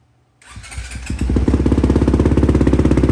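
A 2023 Yamaha YZ250F dirt bike engine kicks to life nearby, revs briefly, then settles into a loud, rapid, chugging idle.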